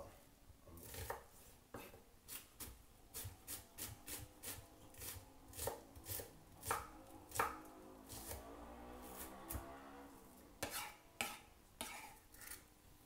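Red onion being chopped for a Jamaican honey coleslaw: a close run of crisp knife strikes against a cutting board, irregular bursts of quick taps with short pauses between them, fairly faint and without talk.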